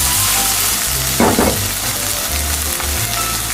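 Butter garlic seafood sizzles in a pan, a dense steady frying hiss over a low hum, with one brief swell of scraping as the mixture is stirred midway.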